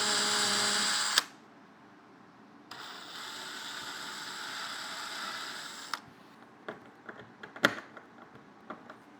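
Power drill driving screws into wooden blocks glued behind an old monitor, a steady whirring run that cuts off abruptly, followed by a second long drive and then scattered clicks and taps.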